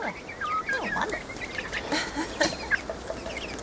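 A flock of chickens, pullets and cockerels, clucks and calls in an outdoor coop. Overlapping chirps and squawks come at close range in an irregular, continuous chatter over soft background noise.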